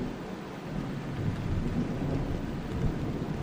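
Rain and thunder in the survival game Vein: steady heavy downpour with a low rolling rumble swelling midway, no voices.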